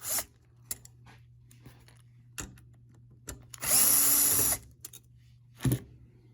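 A power drill backs screws out of a Hoover Convertible U4173 upright vacuum cleaner, giving a few short clicks and taps followed by one sustained whirring burst and a final brief spin, close by with a faint hum underneath.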